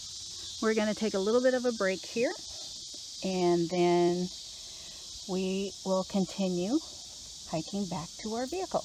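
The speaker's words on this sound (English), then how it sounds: "you can hear the cicadas singing in the treetops" Cicadas drone in the treetops along a hiking trail at France Park in Logansport, Indiana, a faint, steady high buzz running under close, clear speech throughout.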